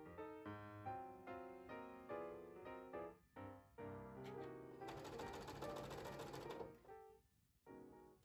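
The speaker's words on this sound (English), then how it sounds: "I'm just stitching right off of my previous seam and then on to my next seam" A sewing machine chain-pieces quilt squares, stitching in quick rhythmic bursts of rapid needle strokes, near and clear, with one longer continuous run in the middle and short pauses between seams.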